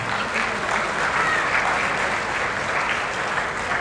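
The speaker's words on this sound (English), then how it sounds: "A round of applause for yourself, guys." Wedding dinner guests give a dense, sustained round of applause that stays at an even level throughout, with a faint murmur of the crowd beneath it.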